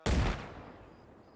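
A frag grenade explodes in Arma Reforger, one sudden loud boom with a heavy low punch that decays into a long rumbling tail, with no talk over it.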